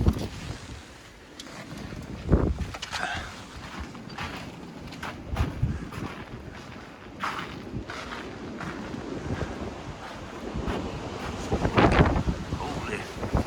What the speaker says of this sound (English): It is really windy and we got a blizzard warning.